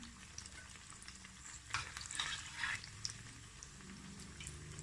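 Banana flower vadai fry in hot oil with a soft, constant sizzle, while a few brief scrapes and clatters come through as the fritters are turned. The sound is quiet and close, with no talk.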